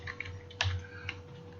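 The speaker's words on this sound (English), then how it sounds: "let's just type in" Keys tapped on a computer keyboard while entering a postcode into a customer address form: a few quiet, scattered clicks with one firmer keystroke near the middle, alone without speech.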